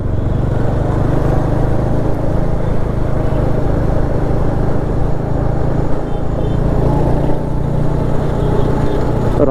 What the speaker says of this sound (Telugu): రాయల్ ఎన్ఫీల్డ్ బైక్ సౌండ్ వస్తుంది కదా